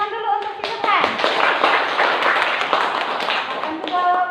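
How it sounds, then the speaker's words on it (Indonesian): Classroom applause, a close burst of many hands clapping in quick uneven patter, with voices mixed in among the clapping. "silakan tepuk tangan dulu untuk Subhan."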